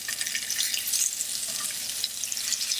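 Wagyu beef searing in a hot pan, a steady close hiss and crackle of sizzling fat with small spitting pops, continuous and fairly loud with no voices.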